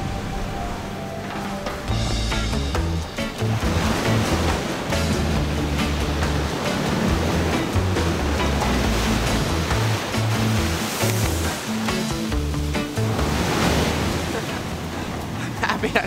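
Ocean surf rushes and crashes in a continuous loud wash of breaking waves, close by, with a voice partly audible beneath the roar.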